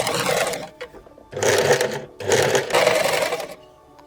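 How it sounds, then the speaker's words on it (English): A sewing machine straight-stitches the back opening of an áo dài in a U-shape, running in three close, steady bursts with short pauses between them. "Straight stitch the back opening in a U-shape."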